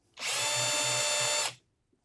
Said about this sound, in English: Now I can change back to my drill setting, and very carefully, trying to keep the drill as vertical as you can.